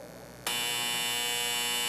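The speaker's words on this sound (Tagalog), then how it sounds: "the tail end of this, you will hear the final buzzer" A debate timer's final buzzer in a 2016 senatorial debate cuts in abruptly after a brief low hum, then holds as a loud, steady electronic drone to the end with no talking over it.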